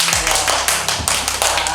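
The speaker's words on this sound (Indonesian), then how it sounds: "Boleh tepuk tangan" An audience claps during a host-training class, with sharp, close hand claps filling the moment in a steady burst.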